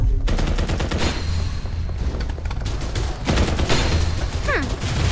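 Rapid gunfire in the Farlight 84 video game rattles in dense bursts of shots, loud and continuous, with short gaps and a brief game sound effect near the end.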